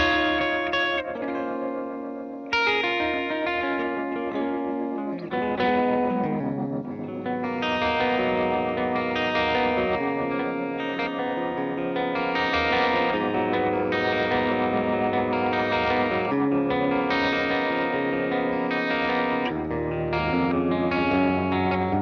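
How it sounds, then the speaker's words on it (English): An electric guitar played through a Gamechanger Audio pedal set to a classic tremolo with reverb, sustained chords pulsing steadily and washing out in a spacious tail, loud and alone for over twenty seconds. "just like a very classic sounding like trem with some reverb in there"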